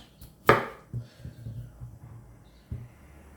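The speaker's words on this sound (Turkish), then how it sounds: "Önce patateslerimi çok küçük bir şekilde doğruyorum." A few knife chops on a cutting board as potatoes are diced very small, one sharp and loud near the start, then softer irregular taps, with a last firm chop near the end.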